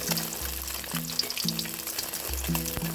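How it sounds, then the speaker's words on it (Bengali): Fish deep-frying in oil, a continuous crackling sizzle close by, with a background hum pulsing on and off and a few clinks. "ওই মাছগুলো ভেজে নিচ্ছি"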